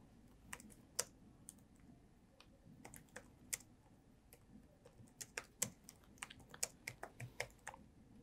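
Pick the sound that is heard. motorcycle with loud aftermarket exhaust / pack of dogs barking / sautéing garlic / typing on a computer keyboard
typing on a computer keyboard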